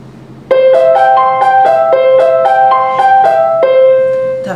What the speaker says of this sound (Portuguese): Agora eu vou colocar o som do piano.